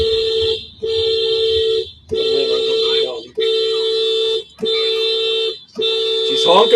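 A car horn honks in a run of about six long, steady blasts separated by short gaps, loud and close on a city street, with someone talking partway through.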